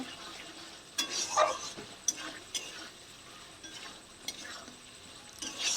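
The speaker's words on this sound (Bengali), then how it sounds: "আবার একবার নাড়ব।" Spice masala being stirred in a cooking pan while making mutton curry, a spoon scraping and clinking against the pan in a few separate strokes over a soft sizzle, with no talking.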